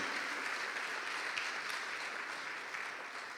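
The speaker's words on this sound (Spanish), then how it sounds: "Démosle fuertes ofrenda de palmas a nuestro Dios" A church congregation gives a sustained round of applause, steady and dense throughout, filling the room before gradually easing slightly toward the end.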